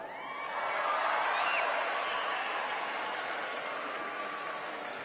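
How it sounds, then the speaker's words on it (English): An audience at a high school graduation ceremony applauds, with the broad, steady clapping swelling in and holding at a strong level, plus a few faint cheers mixed in. "Let me hear you applaud."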